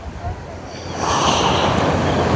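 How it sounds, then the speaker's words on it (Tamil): Ocean surf at Mirissa beach, Sri Lanka, rushes in as a broad, loud wash that swells after a second and roars on steadily, with wind buffeting the microphone. "இந்த கடல் வந்து ஒரு கொஞ்சம் வித்தியாசமான அலை."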